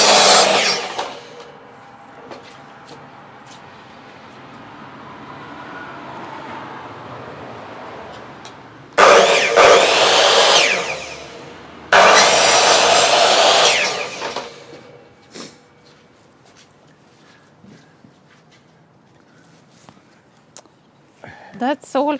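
A Logosol chainsaw fitted with a steel ripping chain, 3/8 Pico pitch ground at a 10-degree top plate angle, cuts wood in two loud bursts mid-clip, with someone talking before and light clatter after.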